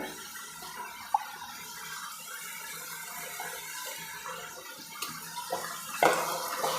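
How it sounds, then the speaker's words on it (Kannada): Water is poured into a pan of frying masala while black-eyed pea masala gojju cooks, making a steady, close pouring and bubbling wash with a few faint clinks and a louder splash near the end. "ಆಮೇಲೆ ನೀರು ಹಾಕ್ಕೊಳ್ಳಿ"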